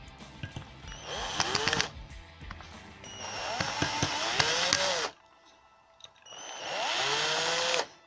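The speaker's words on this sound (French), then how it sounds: "on prend nos vis que on a découpées au préalable, puis on visse." A power screwdriver drives screws while a 20W LED is mounted into a spot light, giving three separate whirring bursts, each rising in pitch, with short quiet gaps between them.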